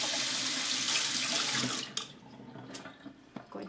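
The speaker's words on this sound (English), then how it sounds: "I'm going to rinse my spatula." Tap water runs steadily into a kitchen sink as a spatula is rinsed after scraping out homemade buttermilk, then the flow stops and a few clattering handling sounds follow, close and fairly loud.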